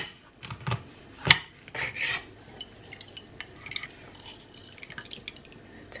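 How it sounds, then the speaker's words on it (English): Lemon rubbed over a grater for zest, producing scattered short rasping scrapes and light taps, close and fairly quiet with uneven gaps and no talking. "This is not zesting how I thought it would zest."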